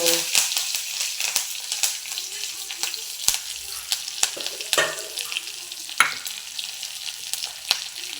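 Mustard seeds, cumin and curry leaves sizzle in hot oil for an onion-potato curry, a continuous hiss dotted with sharp popping crackles and spatters close up.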